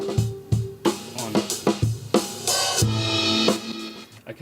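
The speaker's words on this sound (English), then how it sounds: "that's the sound of heavily compressed drums." A drum group heavily compressed through a Neve console insert gives punchy kick and snare hits with pumping cymbal wash that swells between beats, loud and busy with no voices.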